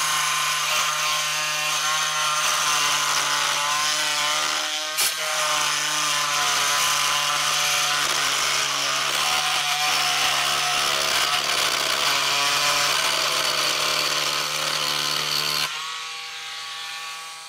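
A Dremel Velocity corded oscillating tool runs at its lowest speed of 10,000 RPM, giving a loud, steady buzzing drone that holds for about sixteen seconds and then cuts off abruptly, with no talking.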